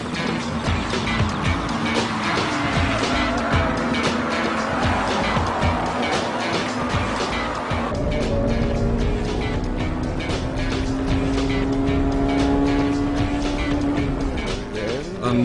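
Honda Civic EK9 Type R with a B16B engine racing on track, its high-revving engine screaming continuously through gear changes and overtaking, with tire squeal and other race cars nearby, loud and close throughout.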